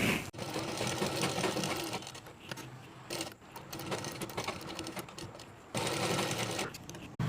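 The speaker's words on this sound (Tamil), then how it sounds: "இப்போ நான் வந்து நெக்கில் ஓர தையல் போட்டுட்டேன்." A sewing machine runs steadily as it stitches an edge seam around the neck of a nighty, with a dense continuous whir broken by a few brief pauses and restarts, close and fairly loud.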